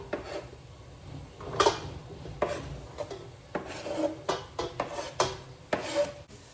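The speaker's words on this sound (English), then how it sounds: "we're just going to stir the vegetables around so they don't get stuck together" Vegetables being stirred in an oiled pot for pasta bolognese, with a wooden utensil scraping and rubbing in irregular strokes, close and moderately quiet, with no talking.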